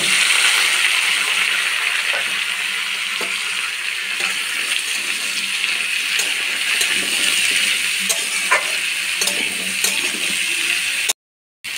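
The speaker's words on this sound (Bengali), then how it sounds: "এবার সব সবজিগুলো একসাথে দিয়ে ভেজে নেব।" Mixed vegetables frying in hot ghee and oil give a loud, continuous sizzle with scattered spatter pops and light stirring clicks, ending in a brief cut to silence just before the close.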